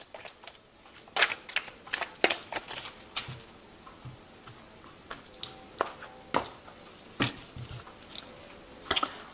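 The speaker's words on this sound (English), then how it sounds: "I have shuffled this deck." Cards from a Tarot of New Vision deck are shuffled by hand, giving scattered soft clicks and riffling taps at an uneven rhythm, close and quiet.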